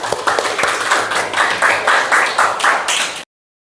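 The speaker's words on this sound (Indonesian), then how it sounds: "Tepuk tangan untuk kita semua." A class of students claps together after a lesson, a brisk round of hand claps with a loosely rhythmic pulse, close and fairly loud, stopping abruptly after about three seconds.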